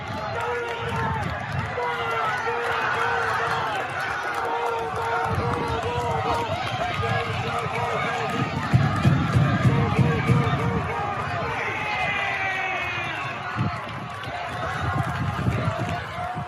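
Crowd at a sports game shouting and cheering in loud, rising bursts, with voices calling out over a busy background of movement and running.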